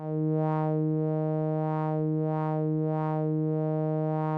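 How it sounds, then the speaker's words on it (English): FabFilter Twin 3 synth oscillator playing a sawtooth wave through a modulated low-pass filter, one sustained steady note, loud and alone, its brightness swelling and falling in a slow regular sweep about every 0.6 seconds. "oscillator 1 is a sawtooth wave through a modulated low-pass filter"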